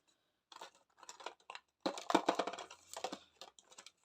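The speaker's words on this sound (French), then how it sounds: "Mes ciseaux." Scissors cut paper while making an autumn card, giving several short bursts of snipping and rustling with pauses between them, close and fairly quiet, with no talk.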